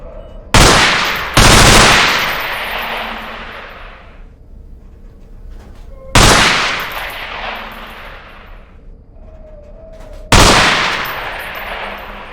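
MP5 submachine gun fire in the Half-Life 2 Underhell mod, loud close bursts aimed at pop-up targets in a shed, four sharp volleys each trailing off in a long reverberant decay, no voices.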